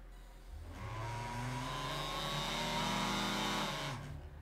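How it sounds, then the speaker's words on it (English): Motors on flight-sim hardware shaking a throttle quadrant, yoke and rudder pedals: a steady mechanical hum and buzz that swells in and rises in pitch as it ramps up, holds for a few seconds, then cuts off, heard alone. "you heard the motors running up there, causing vibrations throughout my throttle quadrant, yoke, and of course, rudder pedals"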